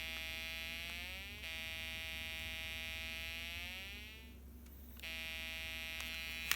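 Snap Circuits electronic kit with the R3 resistor sounds a low-pitched buzzing tone, steady and faint, its pitch gliding and shifting as the adjustable resistor changes it, with a brief noisy break near the end.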